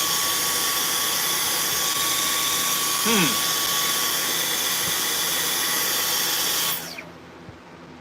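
Dyson V11 cordless stick vacuum running with a steady high-pitched whine and airflow roar, a brief pitch shift midway, then powering down near the end.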